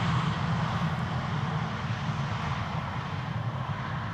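EasyJet airliner arriving on Polderbaan runway 18R at Amsterdam, a steady, moderately distant jet engine roar that holds evenly throughout.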